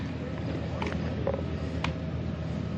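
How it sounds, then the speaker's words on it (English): Can crusher machine running among hit-and-miss engines at a small local antique engine show, giving a steady mechanical churn with faint creaks and clanks throughout. "And the can crusher."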